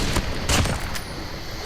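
Sniper fire in the mobile battle royale game Call of Duty Mobile gives a couple of sharp, loud cracks over a constant layer of game noise, with a voice speaking around them.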